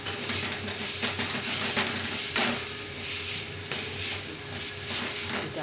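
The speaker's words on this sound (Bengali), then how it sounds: "এটা আরেকটু ভেজে নেব।" Shim bhorta, a mashed bean paste, frying in a pan with a steady close sizzle and hiss, broken by a few sharp scraping stir strokes against the pan, with no talking.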